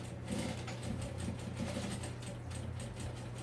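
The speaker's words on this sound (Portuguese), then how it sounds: "vou fazer uma costurinha para prender as minhas alças na pochete" A sewing machine stitches bag straps onto a fanny pack, giving a steady, close mechanical hum with a faint rapid needle pulse that runs unbroken throughout.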